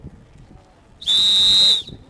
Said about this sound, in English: the whistle is obviously for calling help